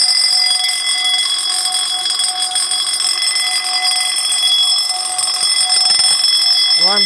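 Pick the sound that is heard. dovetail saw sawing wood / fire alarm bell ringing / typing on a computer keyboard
fire alarm bell ringing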